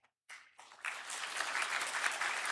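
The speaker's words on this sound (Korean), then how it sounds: "차렷 인사할 때 위로의 박수 하겠습니다" A church congregation bursts into applause of comfort after a brief silence, the clapping building quickly into a steady, full roar of many hands that continues to the end.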